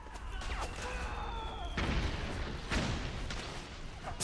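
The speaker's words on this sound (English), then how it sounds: "It's explosions." Booming explosions and gunfire from a Metal Gear video game scene, with heavy low rumble and a couple of sharp blasts standing out over a constant noisy battle backdrop.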